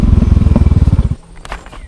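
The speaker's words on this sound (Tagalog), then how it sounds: "Dito tayo papark ng ating motor." A motorcycle engine idles close by with a steady low throbbing pulse for about a second, then cuts off, leaving faint clatter and shuffling as it is parked at a rice terrace viewpoint in Lobo, Batangas.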